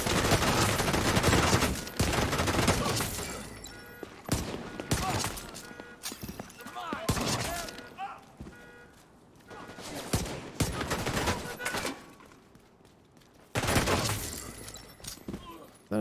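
Turret and enemy gunfire in The Division 2, bursts of rapid shots and fusillades coming and going in loud waves with brief lulls, heard alongside game voices and a player talking.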